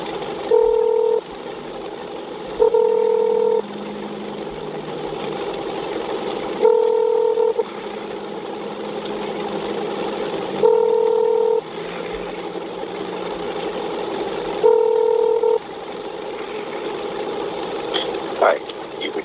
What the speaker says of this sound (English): Okay, dialing.